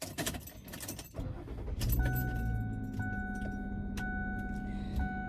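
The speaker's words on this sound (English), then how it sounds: "I know I have my car running, so it's probably going to be kind of loud." A car engine starts and then idles with a steady hum, with keys jangling and some rattling beforehand; no talking.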